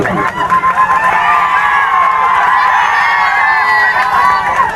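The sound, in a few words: crowd applauding and cheering at a football match prize ceremony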